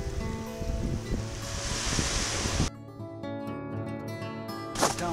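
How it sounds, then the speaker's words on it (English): Surf breaking on a sandy beach with rocks below a lookout at a coastal nature park, a steady broadband wash of waves with a sharper swell near the end, recorded outdoors in spring with some wind on the microphone. "beautiful rock, sand beach. Beautiful surf."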